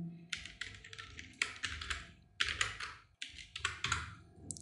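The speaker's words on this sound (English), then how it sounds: "So I'm typing" Fast typing on a computer keyboard, close and clear, in bursts of rapid key clicks with brief pauses between them.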